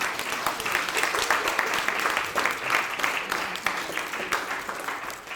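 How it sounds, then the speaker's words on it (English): Indoor audience applause at a community arts talk, moderately loud clapping that swells and ebbs in gentle waves throughout, with no talking over it. "Can I say a big round of applause"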